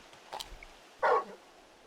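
Torgal, the big wolf-like dog companion in Final Fantasy XVI, gives a single short bark at a moderate distance, brief and fairly quiet against a soft game background.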